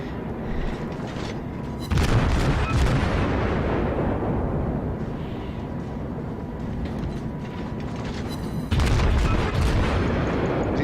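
Heavy naval gun salvos from the battleship Kongo in World of Warships, two loud booming barrages rumbling out over continuous game noise, without speech.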